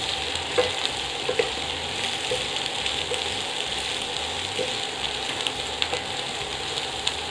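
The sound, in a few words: vegetable frying and stirring in pan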